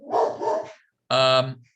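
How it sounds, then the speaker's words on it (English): Dog barking: a short throaty burst followed after a pause by a sharper, tonal bark, close and loud, indoors at a theatre chamber meeting. "Norman, that's the dog."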